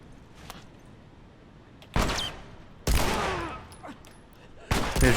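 Gunfire in The Last of Us, with loud bursts of shots alone against a quiet background, one near the middle followed by a longer volley and another burst at the end.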